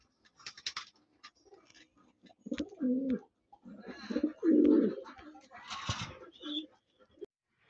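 Racing pigeons in a breeding loft coo in deep, throaty bursts, several close rolling calls with short pauses between, amid faint shuffling and brief background noise.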